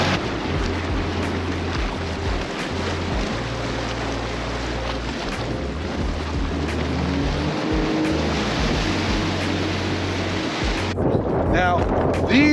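A Sea-Doo jet ski idles slowly across a lake, its low engine rumble steady beneath heavy wind buffeting and water wash, with a brief louder splash near the end.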